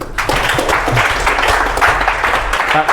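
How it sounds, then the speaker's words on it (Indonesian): An audience applauds in a room, a dense steady wash of many hands clapping close by for about three seconds, with faint voices mixed under it. "kasih tepuk tangan dulu nih"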